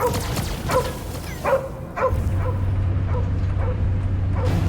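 A dog in the Guardians of the Galaxy video game gives several yipping barks and whimpers at a steady pace over a low droning hum, with faint game sounds behind.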